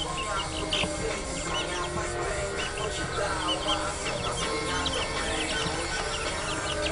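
Month-old white and black partridge chicks eating lettuce planted in a tube, a dense continuous chorus of peeping and chirping, close and steady throughout, with faint talk underneath.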